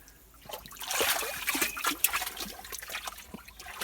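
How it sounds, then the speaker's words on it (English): Trickling, dripping water inside a small clay cave beside a creek, an irregular patter of drips and dribbles that swells and eases over a few seconds, close by with no talking. "There's dripping water."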